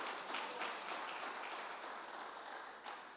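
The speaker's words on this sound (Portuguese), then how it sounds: "As palmas para o Senhor." Church congregation clapping together during a sermon, a steady wash of applause that is fairly close and holds at even loudness for a few seconds before tapering slightly.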